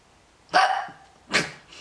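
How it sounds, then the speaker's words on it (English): Two sharp hiccups from a person, spaced under a second apart, close and fairly loud, each a short burst with a fading tail and no talk around them. "I've got hiccups."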